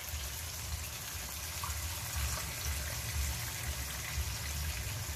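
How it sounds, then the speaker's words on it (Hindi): Water poured steadily into a pot of chicken pulao, a soft, continuous low splashing and gushing that holds even and fairly faint throughout. "अब इसमें मैं पानी डालने लगी हूँ"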